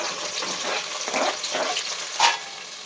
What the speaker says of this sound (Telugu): ఆయిల్ హీట్ అయింది. ఇందులో ఆనియన్స్ వేసుకున్నాము.